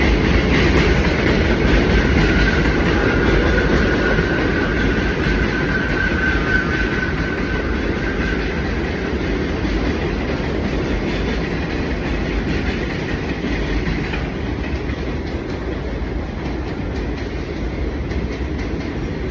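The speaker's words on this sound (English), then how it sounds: "Let this train pass." A train rumbles past steadily for the whole stretch, a loud continuous roar with rhythmic clacking of wheels and a faint high squeal.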